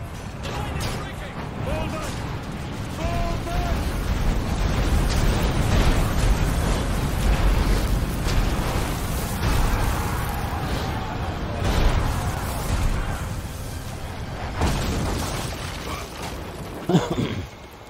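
Siege catapults firing and their stones crashing down in Ryse: Son of Rome, a continuous rumbling barrage of booms and crashes with creaking mechanisms and battle noise, and a voice shouting over it.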